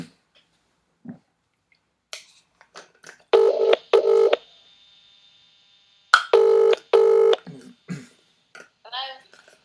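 A telephone dials out to place a call, with two clusters of steady keypad tones separated by a pause. Scattered clicks and small taps come before, between and after the tones.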